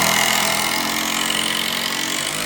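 A power drill drives long screws into timber for a cabin sauna, giving a steady, loud whirring buzz that holds for the whole stretch with no pauses.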